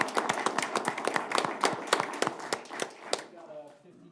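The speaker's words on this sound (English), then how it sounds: "All right, big round of applause for all three." A small group claps at a Lindon City Council meeting, with sharp, scattered hand claps of uneven rhythm and moderate volume that stop abruptly after about three seconds, leaving quiet room tone.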